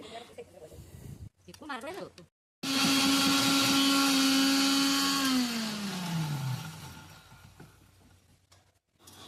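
A mixer grinder grinding ginger into paste whirs loudly for several seconds, its motor pitch dropping as it runs down, with brief speech and clatter before it starts.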